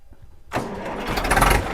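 A tractor engine cranks and catches at a farm tractor fair, then settles into a loud, steady mid-pitched running rumble close by, with no talk.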